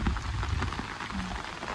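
Heavy rain pours down over a rice paddy field, a steady dense hiss with pattering drops throughout, loud and close, with no voices.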